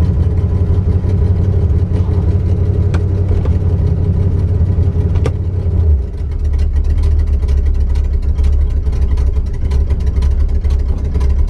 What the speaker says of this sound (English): It's idling so high right now, but carb setting is my guess.